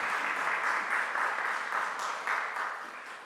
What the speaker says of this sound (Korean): 다시 한번 큰 박수 드리겠습니다.